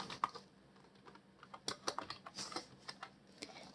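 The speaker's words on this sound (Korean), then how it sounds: "바로 타이핑 하도록 하겠습니다" Computer keyboard typing: a steady run of quick, light key clicks with irregular rhythm and a few sharper, louder strikes, close and on its own with no voices.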